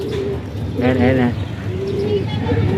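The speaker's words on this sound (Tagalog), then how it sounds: "Ayan, dumapo na mga kalapatids." Racing pigeons landing coo softly in a low, rolling murmur, with a brief chirpy bird call in the middle and a voice talking over them.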